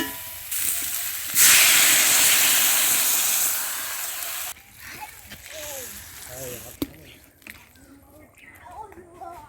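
Water poured into a pan of lightly fried potatoes and seeded banana sends up a loud, broad hissing sizzle that lasts a few seconds, then subsides into quieter bubbling as a voice talks over it.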